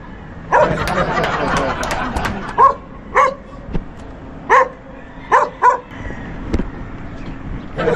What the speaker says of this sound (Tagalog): Ingay mo aso.